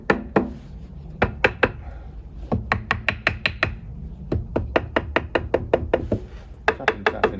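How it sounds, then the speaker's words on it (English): Wooden formwork tapped down onto a metal barrel for an outdoor cooker made from an upcycled can: sharp, close knocks in quick irregular bursts, some fast clusters, with short pauses between runs. "So I'm tapping the formwork down onto the barrel, not against the pug like so."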